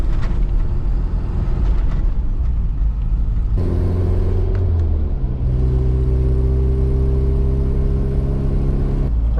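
Toyota car engine while driving in a winter storm, a loud steady rumble and whir from inside the cabin with a shift in engine pitch partway through.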